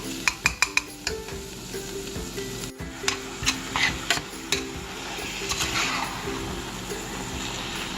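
Ground turkey goes into a pan of softened peppers and onions, with a few sharp utensil clacks and scrapes at first, then a steady low sizzle and occasional stirring knocks.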